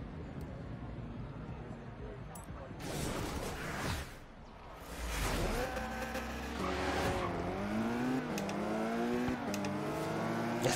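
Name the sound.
Jaguar E-Type car racing, from video game Forza Horizon 3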